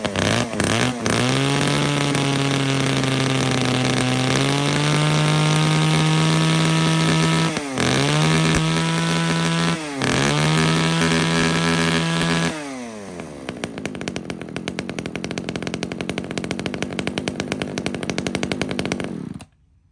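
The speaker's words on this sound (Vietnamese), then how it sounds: "một máy cưa Echokeorit nhỏ gọn về cho các bác về sử dụng gia đình." Small Echo Kioritz chainsaw engine running close up, a loud steady buzzing idle with several quick throttle blips and dips, then a rougher lower drone before it cuts out at the end.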